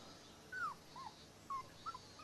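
A dog whimpers in a housing complex, with several short, thin, high whines spaced across a quiet, faint background.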